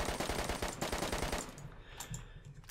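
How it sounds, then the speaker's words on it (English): Rapid, evenly spaced gunshots fire at a tree in the video game DayZ, a steady burst for about a second and a half before stopping abruptly and leaving quiet outdoor ambience. "we can go ahead and, I don't know, just shoot this tree for no reason at all"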